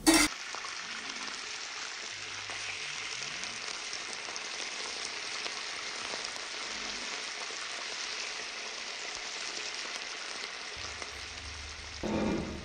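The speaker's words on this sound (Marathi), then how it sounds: "अंडा आणि भात व्यवस्थित मिक्स करून घ्यायचा" Leftover rice and cooked egg being mixed together in a hot frying pan, giving a constant, even sizzle with occasional soft stirring, no voices.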